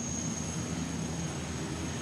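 Caïman military helicopter idling at a French special forces operation, giving a steady low rotor and turbine rumble with a constant high whine, moderately near and unbroken across two seconds.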